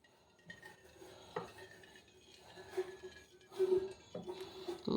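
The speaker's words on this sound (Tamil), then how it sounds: "இப்போ பாருங்கள் ஃப்ரெண்ட்ஸ், வடை சட்டியை வச்சாச்சு" A vada frying pan (kadai) is set down on a stove, giving a few close metallic clunks and scrapes of cookware, with a louder knock near the end.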